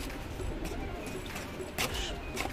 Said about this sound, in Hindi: ये देखिए फिर से मुखचीने कबूतर